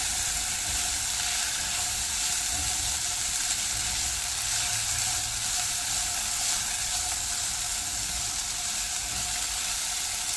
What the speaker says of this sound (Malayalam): നന്നായിട്ട് വഴന്ന് വരുന്നതുവരെ നമുക്കിത് വഴറ്റിയെടുക്കാം